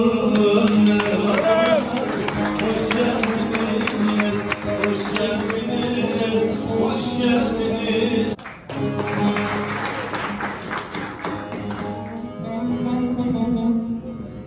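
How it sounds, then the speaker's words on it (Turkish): An audience applauds the minstrels at a Kars folk poets' festival, with dense sustained clapping and crowd noise under music, briefly dipping midway before swelling again. "Aşıklara alkış"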